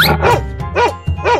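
A dog barks three times in quick, evenly spaced bursts, loud and close, with a yelping, voice-like ring and no other sound between them.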